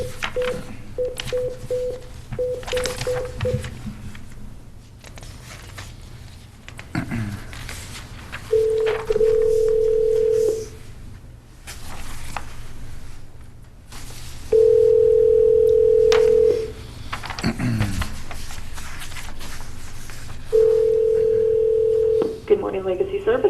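Telephone dial tone and ringback while calling a services company, with steady tones in bursts of a few seconds separated by pauses, and a person speaking between and around them.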